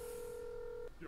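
A mobile phone dialing tone sounds as one steady, loud electronic tone lasting nearly a second before cutting off, followed by a short burst of other noise.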